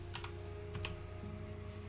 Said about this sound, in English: pray for me in my typing skills